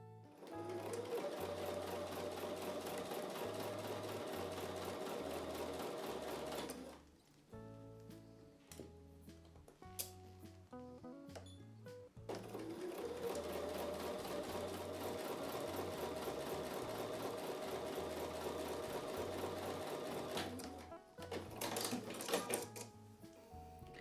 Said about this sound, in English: So I'm going to take these to the sewing machine and sew with a 1/4 inch seam.